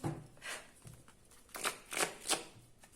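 A deck of tarot cards is shuffled by hand in several quick riffling bursts, close and fairly quiet, with short pauses between them and no talk.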